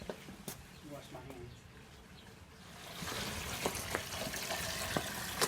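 Water gushes from a garden hose into a container while mixing washing powder for a vintage steel glider restoration, a steady broadband rush growing louder after a few seconds, with people talking over it.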